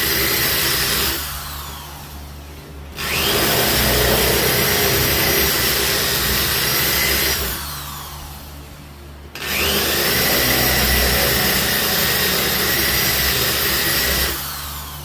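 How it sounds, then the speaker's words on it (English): An electric drill countersinks screw holes in a wooden plaque panel, whirring in two long loud bursts of several seconds each, separated by short pauses and followed by a third burst starting at the end. "What I'll do is I'll countersink them"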